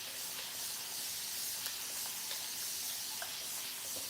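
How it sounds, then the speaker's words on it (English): Spray bottle misting water onto hair during a wavy and curly hair routine, a steady soft hiss running through with a few faint trigger clicks, close and alone. "Now I'm going to hit this with a spray bottle"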